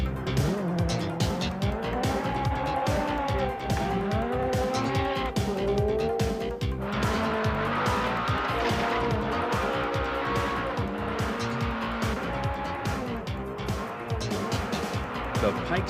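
Race car driving the Pikes Peak Hill Climb mountain course, a loud, continuous engine roar with revs rising and falling and tires squealing through the corners, close and steady throughout.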